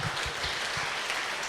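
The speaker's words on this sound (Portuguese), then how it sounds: "Palmas para o Tocha." A group applauding a colleague during a Bible study gathering, a continuous wash of clapping with low thumps mixed in, fairly even in loudness from start to end.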